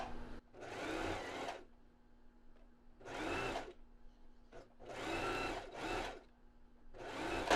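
A domestic sewing machine stitches along a fabric edge in four separate runs, each a close, steady mechanical whirring burst lasting about a second, with quiet pauses and a faint hum between them.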